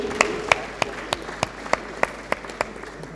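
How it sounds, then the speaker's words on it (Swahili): An audience at a furniture company's opening ceremony claps in steady unison, roughly ten sharp, evenly spaced claps at a brisk rhythm over a low room murmur. "Na tuwapigie makofi mazuri tena."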